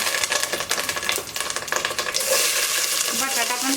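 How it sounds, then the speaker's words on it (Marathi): Cumin, mustard seeds and curry leaves sputter in hot oil for a tempering, a loud, close, crackling sizzle full of rapid popping that settles into a steadier hiss. "जिरे मोहरी टाकलेत कडीपत्ता"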